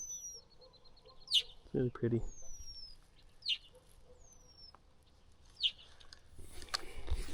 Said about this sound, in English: We're getting yelled at by a bird too.